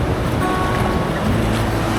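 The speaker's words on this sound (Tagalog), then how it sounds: "Napakalakas ng alon dito." Strong ocean waves breaking at a beach along a highway route, a dense continuous roar of surf mixed with wind buffeting the microphone, loud and close with no voices.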